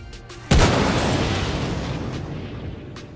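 SAS-4 missiles strike an Aurora MR fighter in a space combat video game, producing one sudden loud blast followed by a long, rumbling roar that slowly fades.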